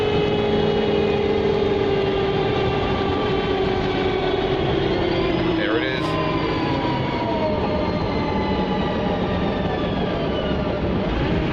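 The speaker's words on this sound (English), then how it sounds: "I could listen to the Voith retarder on this gorgeous Metrobus" A Voith retarder braking a Metrobus bus, heard from on board as loud, steady whining tones that slide in pitch over engine rumble throughout, with a brief spoken voice midway.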